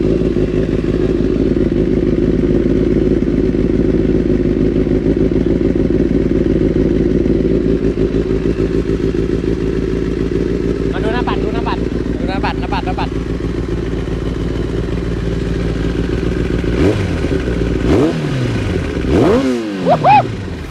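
A heavily modified 2012 Kawasaki ZX10R four-cylinder motorcycle idles with a loud steady rumble, then revs up sharply several times near the end, with clattering and voices in the background.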